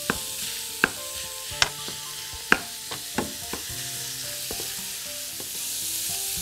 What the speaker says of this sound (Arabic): هنحط البصلة. طيب هنحط دلوقتي الفراخ متقطعة صغير خالص.